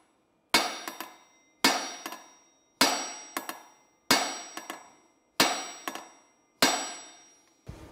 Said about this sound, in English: I'm gonna use this socket to drive that shaft out. And we're gonna pound away on this thing.